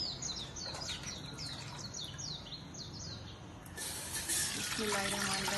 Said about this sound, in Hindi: 1 लीटर मैंने पानी डाल दिया।